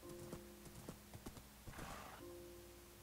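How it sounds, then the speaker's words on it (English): A horse clip-clopping in Minecraft: a run of light, evenly paced hoof taps, fairly close and quiet, with a brief whinny-like burst midway and a steady game tone behind, no talking. "we're going to enroll the assistance of this fine horse who looks exactly like Ash"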